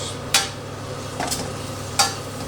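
Mushrooms and cherry tomatoes sauté in a pan under a soft continuous sizzle, with three distinct utensil scrapes and taps spaced across a couple of seconds, close and fairly quiet.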